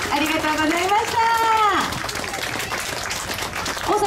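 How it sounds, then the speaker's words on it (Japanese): A crowd applauds a children's taiko drum group at a public performance, with broad steady clapping running throughout under a voice speaking loudly over it. "今一度大きな大きな拍手お送りください。"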